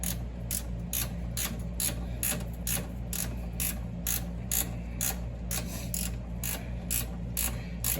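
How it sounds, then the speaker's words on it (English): Ratcheting box end wrench tightening a bolt while an ignition module goes back in: a fast, even run of sharp mechanical clicks, close and steady throughout, with no one talking. "I'll complete it with a ratcheting box end wrench"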